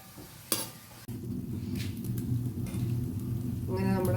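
Chicken curry with turmeric stirred in a pot over a wood-fired stove, a steady close sizzle with scraping spoon strokes, a sharp clatter near the start and a brief voice toward the end.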